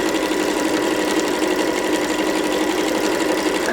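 A sewing machine stitching around the edge of an infinity scarf, a close, loud, steady motor hum with a rapid even needle chatter running unbroken the whole time.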